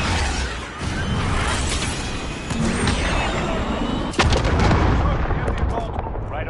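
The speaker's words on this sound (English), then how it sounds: "Missile away." A missile launches with a loud, sustained roaring rush and a sharp blast burst near the end, heavy and close throughout.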